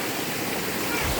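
Water rushing along a stream at Kalilangan Cold Spring, a loud, dense and continuous flow close by that fills the whole moment, with no talk over it.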